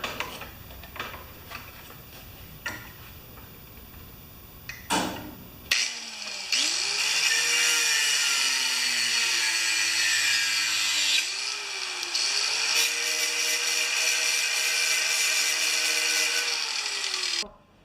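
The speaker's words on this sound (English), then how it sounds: "I'm just going to cut that off with the grinder" An angle grinder cuts off a bolt on a Toro Pace mower. A few light taps come first, then a loud, close, continuous high-pitched whine that dips slightly in pitch under load and runs for about twelve seconds.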